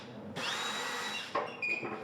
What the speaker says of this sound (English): Let's drill this in here.